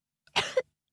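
A sheep gives one short, rough cough, close and alone in otherwise silent darkness, with a brief rasp at the end.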